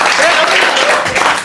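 Applause from an audience at a Children's Day celebration at a school in Hyderabad, a dense, steady patter of many hands clapping close by for the whole stretch, with a faint voice or two mixed in.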